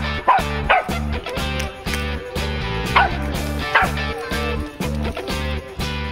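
A dog barks repeatedly while chasing away a troop of monkeys, sharp yips cutting through loud, rhythmic background music that plays the whole time.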